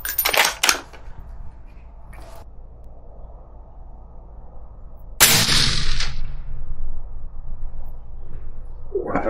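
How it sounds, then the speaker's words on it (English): A single suppressed shot from a Winchester .308 rifle fitted with a Christensen Arms MPP, fired outdoors while sighting in for deer season, lands as one loud, sharp burst partway through with a decaying tail, followed by faint talk. "Let me shoot one more."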